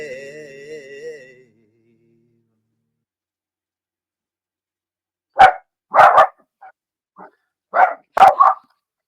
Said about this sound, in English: Hold on a second, the dog's just barking.